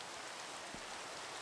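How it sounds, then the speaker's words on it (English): Steady rain falling in the video game Minecraft, a soft, even hiss of dense drops that holds throughout at low volume with no talk. "Ooh, it's raining."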